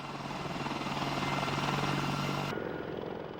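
An AH-64 Apache attack helicopter flies with a loud, steady rotor and turbine roar that fades somewhat near the end, with no voices.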